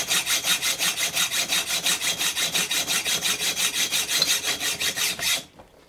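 A hacksaw rasps through a metal M5 screw in quick, even back-and-forth strokes, close and loud, then stops abruptly near the end.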